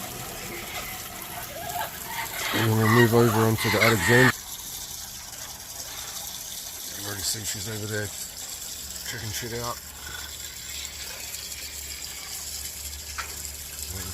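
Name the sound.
water running into parrot drinkers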